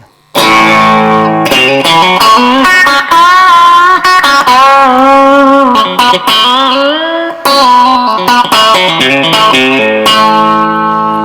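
Electric guitar played through a reverb effect, sustained chords and single notes ringing with a smooth, full, lightly overdriven tone and long decaying tails, loud and alone with no talking.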